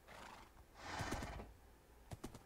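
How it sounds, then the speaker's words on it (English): A horse in the Minecraft modpack SevTech Ages gives a long, rising whinny, followed by a few soft clip-clop hoof steps. All of it is fairly quiet and there is no talking. "We have a horse."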